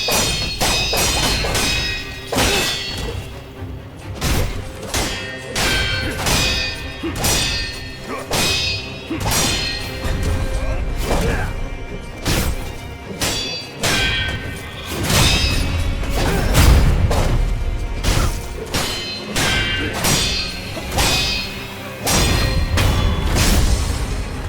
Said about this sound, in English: the satisfying clang of weapons clashing together